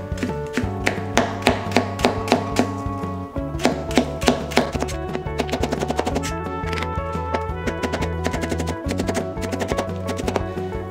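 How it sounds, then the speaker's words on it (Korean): A knife mincing radish for a Korean side dish hits a cutting board in rapid, crisp chops, close and clear, with bursts of quick taps broken by short pauses and no talking. "다져줄 겁니다."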